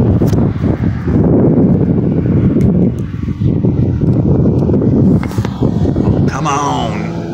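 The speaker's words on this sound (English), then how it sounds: "I'm trying to get out of this wind, it's freezing." Strong, cold wind buffets a handheld microphone outdoors in California, with heavy low rumbling gusts that come in bursts and a person speaking through them.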